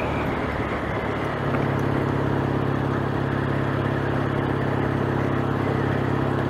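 A Triumph motorcycle engine running while riding, a steady droning rumble with wind noise, muffled as if heard from inside a helmet, the pitch rising slightly as the bike pulls harder.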